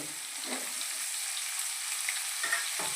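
Onions, green chillies and carrots frying in a pan, giving a steady broadband sizzle with a few soft stirring scrapes near the start and end, with no talking.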